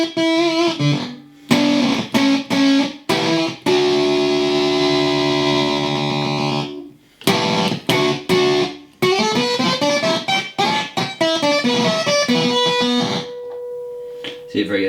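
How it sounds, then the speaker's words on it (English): An electric guitar plays through a breadboarded germanium transistor fuzz pedal, giving a thick distorted tone with choppy strummed bursts, longer sustained notes and brief gaps, ending in a sputtering, gated decay. "That's the sound of the germanium transistor."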